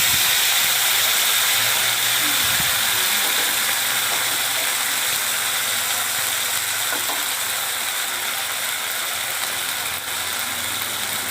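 Whole cumin, dried chilli and ginger-chilli paste sizzle in hot oil in a home kitchen, a steady bright hiss and crackle that stays loud and even throughout, with a few soft clinks and no talking.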